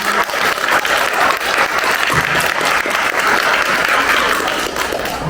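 Loud, sustained applause from the audience at a Korean literary society seminar, honoring the honorary chairman, with dense clapping that stays even and unbroken throughout.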